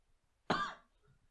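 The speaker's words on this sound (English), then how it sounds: "Little cough." A single short cough from a podcast host during a San Diego Comic Con 2016 special episode, close and fairly loud, rising sharply and fading within about half a second against a quiet background.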